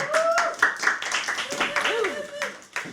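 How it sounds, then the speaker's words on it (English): A small audience in a live studio session claps in short bursts while voices talk and call out over it. "let's give Helena a big round of applause going in the middle."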